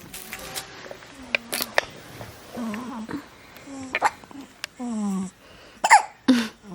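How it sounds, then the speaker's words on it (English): A breastfed newborn baby boy hiccups several times at irregular intervals, each a short sharp squeak heard close by, with soft rustling and small noises in between. "Somebody has the hiccups."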